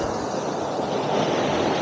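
Waves surge and wash steadily onto Desaru beach in Johor, a continuous loud roar of surf with light wind noise, close by and without voices.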